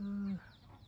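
An old rooster gives a loud, close crow with a steady held note that breaks off after about a third of a second, followed by quieter farmyard background.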